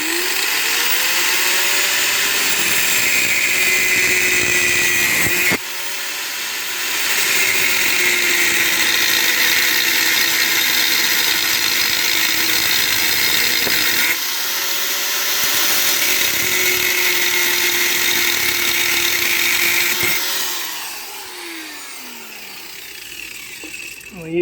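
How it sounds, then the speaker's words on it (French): Angle grinder cutting open the metal casing of a washing machine motor, a loud, sustained high whine with shrill grinding, pausing briefly twice and winding down near the end. "c'est la disqueuse. Donc la disqueuse pour ouvrir la ferraille."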